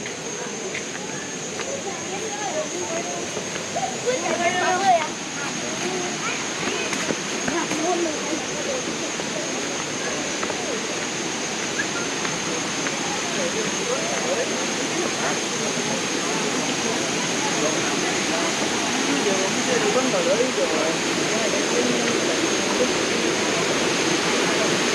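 Steady broadband rush of a hot-spring waterfall in Krabi, Thailand, a continuous near roar of falling water holding even throughout, with faint voices in the background.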